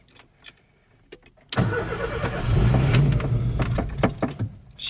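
VW Gol car engine cranking as it tries to fire, a starter churn that surges in loudly after a quiet stretch of faint clicks and electrical noises, with sputtering catches over a steady grinding rumble.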